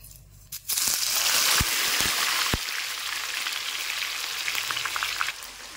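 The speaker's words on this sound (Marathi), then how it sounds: "आता आपण थोडे करून वांगे सगळे फ्राय करून घ्यायचे आहेत" Brinjal slices frying in hot oil, a dense, loud crackling sizzle that starts abruptly after a brief quiet moment and continues steadily, with a few sharp clicks near the start.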